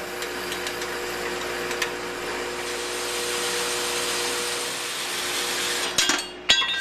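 A miter saw set to a 45-degree compound angle cuts through wood, a loud steady whirring roar of blade and motor that holds for several seconds, then winds down with a couple of sharp clunks at the end.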